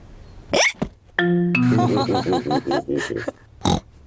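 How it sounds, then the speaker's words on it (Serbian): Cartoon piglet George from Peppa Pig hiccups after drinking his juice too fast, a run of short, rhythmic, squeaky vocal hics and grunts, close and loud, with a brief tonal sound and sharp bursts around them. "George je prebrzo popio svoj sok i zato sada štuca"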